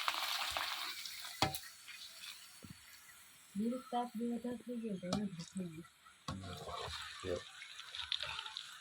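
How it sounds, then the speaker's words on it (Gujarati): Fryums (farfar) frying in hot oil, with a bubbling sizzle and scattered stirring clinks close by, partly under a voice talking in the middle stretch. "ફરફર તરાવા ચાલુ થઈ ગયા હે"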